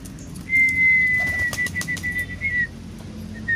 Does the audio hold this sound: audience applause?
no